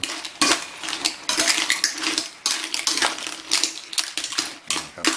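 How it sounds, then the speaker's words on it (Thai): Clams stir-fried with basil leaves in a pan, heard as busy, irregular metallic scraping and clattering of a utensil against cookware, close and fairly loud, with no talking. "ตอนนี้เราก็จะผัดจนโหระพาสุก นะกลิ่นของโหระพาจะเข้าไปในหอยครับท่านผู้ชม"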